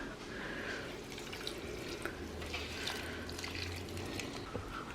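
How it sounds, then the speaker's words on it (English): Water trickling and dripping as a potted plant sitting on a boot mat is watered, a steady close splashing and patter of liquid running into soil, with no voices. "So first thing I'm going to do is just water him a little bit."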